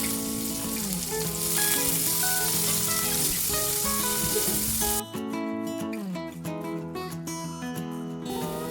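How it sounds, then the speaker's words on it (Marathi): Sliced onion fries in hot oil in a kadai for veg biryani, a loud steady sizzle running throughout, with the crackle easing and thinning slightly in the second half. "तेल चांगलं गरम झालं की उभा चिरलेला कांदा आपल्याला फ्राय करून घ्यायचा आहे"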